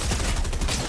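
Shotgun blasts in God of War Ragnarok on PS5 form a dense, loud wash of gunfire through the whole moment, with bursts running together and no clear gaps.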